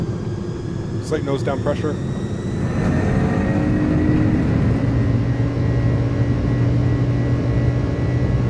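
Jet engines of an iniBuilds A300 freighter spool up to takeoff power in Microsoft Flight Simulator, a steady loud roar that builds after a few seconds and holds, with a voice speaking briefly at the start.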